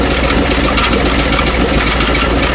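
A 1959 Mercury Monterey engine idles close by with a steady, throbbing rumble and a raspy exhaust chatter from a patched exhaust leak, loud and unbroken throughout.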